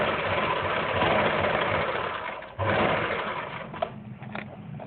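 Electric sewing machine running a double line of stitching along a kurti's fitting seam, a fast steady whirring hum that dips briefly midway, then resumes before slowing with a few light clicks.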